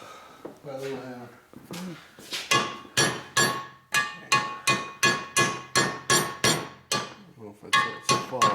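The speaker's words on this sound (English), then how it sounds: "Here's my little hammer." A small hammer strikes metal in a fast, steady series of sharp, ringing taps, close by, after a few scattered knocks, during a transmission rebuild on a 2004 Harley-Davidson FLHT Twin Cam touring motorcycle.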